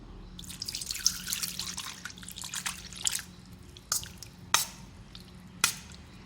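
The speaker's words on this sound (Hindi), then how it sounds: "अब इसको मैं वॉश करूँगी नीम गर्म पानी से" Raw liver being rinsed in lukewarm water: soft close splashing and dripping, with a few sharper sloshing bursts toward the end and no voices.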